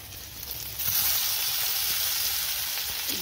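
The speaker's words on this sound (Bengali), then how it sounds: "ভাজবো একটু।" Chopped onion, chili, crushed ginger and garlic fry in a pan with a steady hissing sizzle that jumps louder partway through and then holds evenly, close up, without any talking.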